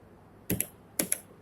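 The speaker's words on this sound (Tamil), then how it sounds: "அடுத்து வந்து நம்ம ப்ரோக்ராம் டைப் பண்ணிட்டு போறேன்." Keys tapped on a computer keyboard while a program is entered, two pairs of crisp clicks about half a second apart, close and isolated against a quiet room.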